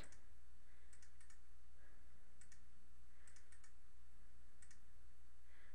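A computer mouse right-clicks while someone works in Photoshop: about eight quiet, crisp clicks arrive singly and in quick pairs or triplets over a faint steady hum, with no talking.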